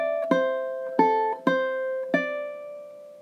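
Ukulele plays one measure of a song, four plucked note-and-chord strikes at an unhurried pace, each ringing briefly, close and alone.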